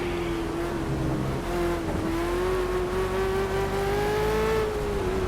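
A Ford Falcon V8 Supercar engine in the video game Project CARS, driven on the Nordschleife, revs and holds a steady high whine, pitch rising and dipping slightly as the throttle shifts, loud and continuous with no talking.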